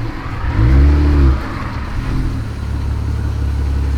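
A Jeep engine revs up briefly and loudly while the vehicle backs at an angle onto a curb, then settles into a steady low idle rumble close by.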